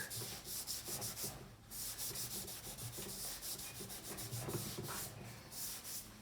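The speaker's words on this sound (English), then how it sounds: "With a little scrubber. Get rid of all the algae and" A small scrubber rubs algae off a bonsai training pot, producing rhythmic bursts of harsh scratchy scrubbing in quick strokes with brief pauses, close and fairly quiet, no voices.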